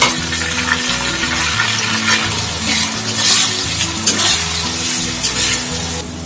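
Tomatoes are stirred into a potato and spinach curry frying in a pan. A loud, continuous sizzle runs under repeated rhythmic scraping strokes of a spoon against the pan, with no one speaking.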